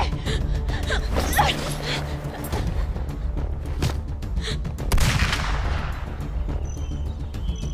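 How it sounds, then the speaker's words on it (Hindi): Gunfire erupts in a parking space during a drama scene: several sharp, loud shots and booms crack out in scattered bursts over a noisy background, with gasps and voices mixed in. "पार्किंग स्पेस में गन फायरिंग हुई है"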